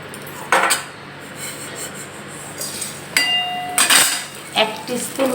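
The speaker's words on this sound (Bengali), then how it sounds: "এই আমি কড়াতে ঘি দিয়ে দিলাম।" Ghee goes into a hot kadai with a few short metal clatters and scrapes of a utensil against the pan, separated by quiet gaps, and no voices.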